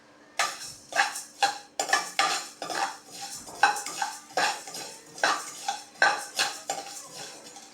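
A spoon scrapes and clatters against a pan in quick rhythmic strokes while ingredients are lightly roasted and stirred on low gas, with a faint sizzle underneath.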